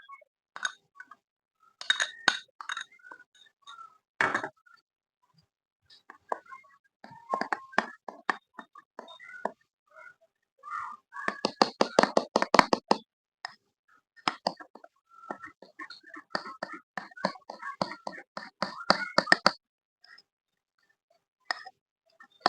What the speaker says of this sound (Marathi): अजून थोडंसं बेसन घालून परत फेटून घ्यायचं.